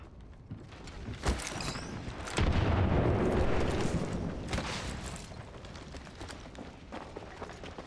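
Frag grenade explodes in a shooter video game, a heavy booming blast that swells out of rumbling battle noise and fades over several seconds.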